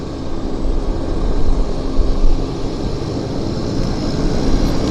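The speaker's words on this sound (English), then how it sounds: "American Airlines coming in on the other end. A321 from Dallas Fort Worth." An American Airlines Airbus A321 arriving from Dallas Fort Worth lands at Vancouver airport, a steady broadband jet roar that swells and holds throughout, fairly loud and continuous with no talk over it.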